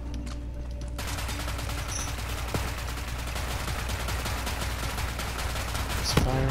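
Semi-automatic weapon firing in a video game, a few sharp shots cutting through a dense, steady wash of game noise and background sound.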